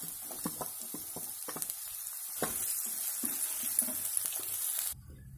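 Onions frying in a pan for Himachali rajma, a steady close sizzle with irregular soft stirring knocks and taps, ending abruptly into a low background hum.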